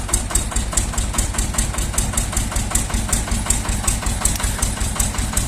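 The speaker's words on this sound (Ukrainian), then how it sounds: "Апарат завелся і працює." A Shifeng 240 mini tractor engine idles after its first start following winter, giving a steady, close, rhythmic diesel chug with even knocking pulses throughout.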